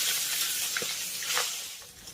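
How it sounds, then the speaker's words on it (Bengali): Two fish heads fry over medium-high heat in a pan, giving a steady bright sizzle with scattered pops and spits of hot oil, close up and without talking. "মিডিয়াম হাই ফ্লেমে মাথা দুটোকে আমি খুব সুন্দর একেবারে লালচে রং ধরিয়ে ভেজে নেব।"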